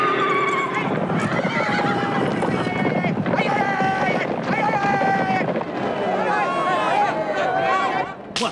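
Horses neighing with hoofbeats from a four-horse chariot at a Gaulish circus race in the 1985 animated Asterix film, loud and continuous over busy orchestral music, with whinnies rising repeatedly throughout.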